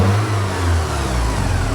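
A 1984 Porsche 944 naturally aspirated engine revs up under acceleration, a loud close mid-pitched engine roar climbing steadily in pitch with no voices.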